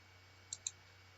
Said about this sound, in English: You probably hear me clicking away at the various slides.